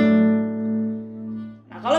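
A guitar chord played from tablature rings out and decays over a couple of seconds, then a voice starts talking at the end.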